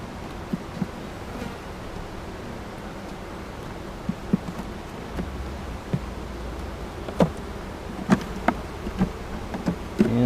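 Honeybees buzz steadily around an open hive, a close dense drone with occasional sharper clicks and knocks from handling the hive boxes.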